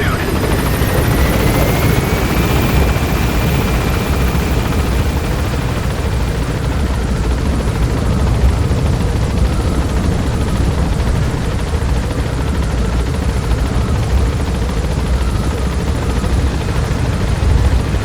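Helicopter gaining altitude in Metal Gear Solid V, a loud continuous rotor roar with a rising turbine whine, steady and close for the whole span.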